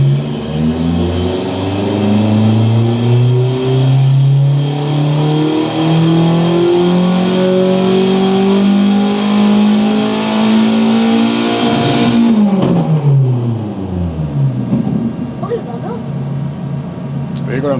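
Volvo Penta AQ151 marine engine on a dyno, revving in one long rising sweep that climbs steadily in pitch for about twelve seconds before dropping off to a low idle, loud and close.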